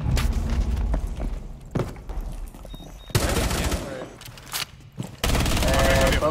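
Rapid automatic gunfire tears through a wall in Rainbow Six Siege, dense loud bursts of shots with heavy impacts, pausing briefly between volleys, while a player talks under the noise.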